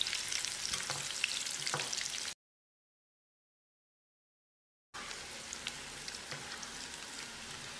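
Pieces of yam fry in hot oil with curry leaves and pepper and are turned in the pan, a close, bright crackling sizzle dotted with stir clicks, cut off by a stretch of total silence midway before resuming.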